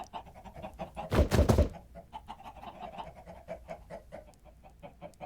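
Chickens in Minecraft make soft, repeated clucking and pecking sounds in a steady patter, broken near the start by a short loud burst of noise, with no one talking.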